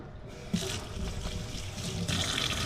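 A steady rush of tap water runs over a seven-piece fishing rod being washed, with brief splashes and slight shifts in the flow as the rod is moved under the stream.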